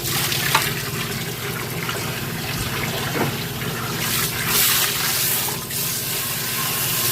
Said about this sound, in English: Just kind of rinse the whole tub out.